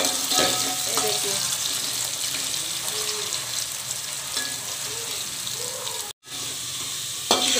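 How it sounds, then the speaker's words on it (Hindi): Potatoes fry and get stirred in a pan for Maharashtrian kanda poha, a steady hiss of sizzling oil with soft scraping stirs and faint clinks, close and continuous with a brief gap near the end. "अब इसको हल्का फ्राई होने दे"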